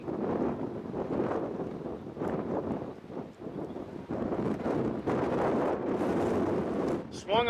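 Gusty wind buffets the microphone outdoors at a blitzball game, rumbling in uneven surges and lulls, with a voice talking over it.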